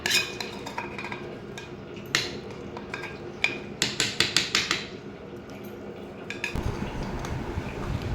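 A spoon stirs raw mango pickle with jaggery syrup in a metal pan. Scattered clinks build into a quick run of loud metallic clanks, then give way to a steady scraping, stirring noise close by.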